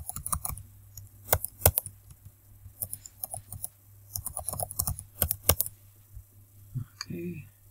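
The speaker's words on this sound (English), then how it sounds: "Let's type in the password." Password being typed on a computer keyboard during online admin setup, a series of quick close key clicks in uneven bursts with short pauses, fairly quiet, with no talking.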